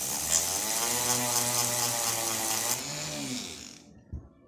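A power tool spins a large polishing roller against a wide, sturdy bracelet made from an old coin, giving a steady close whine with harmonic bands that runs about three seconds, then winds down, ending in a brief knock.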